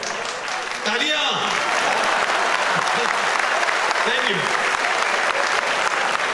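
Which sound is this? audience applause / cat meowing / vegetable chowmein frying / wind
audience applause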